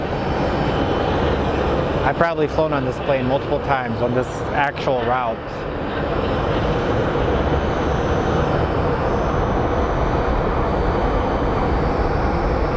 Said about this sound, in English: Up next is a CRJ 900 operated by Mesa Airlines